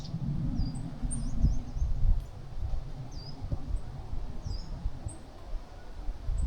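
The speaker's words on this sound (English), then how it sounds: "Birds." Small birds in a quiet, boggy woodland give thin, high chirps and short twittering calls scattered over a steady low rumble of background noise, faint and at some distance.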